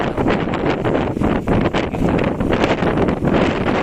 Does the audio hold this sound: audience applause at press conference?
no